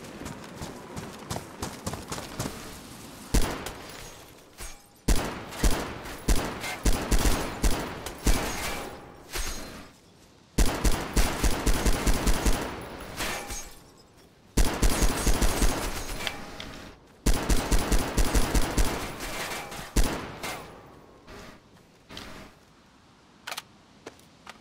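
Repeated bursts of rapid gunfire in the video game DayZ crackle in clusters with short pauses between them, sharp and fairly close, with no talking.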